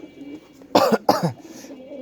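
Two sharp, close coughs in quick succession, followed by a faint breath in an otherwise quiet room.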